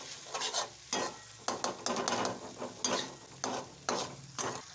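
Red chili and coriander powder being stirred into fish curry gravy in a pan, a close series of scraping spoon strokes over a soft sizzle, rhythmic and fairly loud, no voices.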